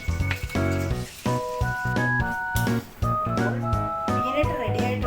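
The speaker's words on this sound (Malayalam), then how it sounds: "അതുപോലെ നമുക്കിതൊന്ന് ഫ്രൈ ചെയ്തെടുക്കാം" Peanuts frying in oil and butter sizzle close up, with stirring scrapes and clinks against the pan in short bursts and no speech.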